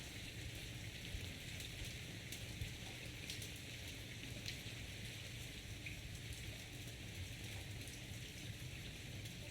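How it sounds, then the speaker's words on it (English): Heavy rain falls outside, a dense, even hiss of drops that holds steady the whole time with no voices over it. "god damn it's raining outside"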